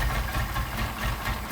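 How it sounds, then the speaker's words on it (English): Engine with a Solex carburettor idling, idle mixture screws opened, a steady low rumble with even throb and faint knock, close and continuous with no talk. "the engine should still be idling"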